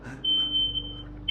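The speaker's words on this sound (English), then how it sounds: "maybe the smoke alarm's going off" A smoke alarm in a house emits a loud, sustained high-pitched electronic beep lasting about a second, then starts again, heard indoors with no speech over it.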